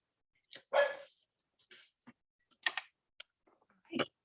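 A small cocker spaniel barks indoors in several short, close bursts separated by brief silences, with a few light clicks between the barks.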